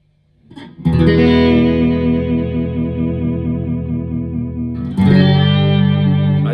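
A G&L USA Doheny electric guitar with a fulcrum whammy bar rings out a loud sustained chord that wavers in pitch as the bar is worked, then a second chord is struck and sustains, with no talking.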